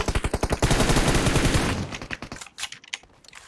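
Rapid automatic gunfire rings out in PUBG Mobile, a loud sustained burst of closely spaced shots followed by a few scattered single shots and clicks.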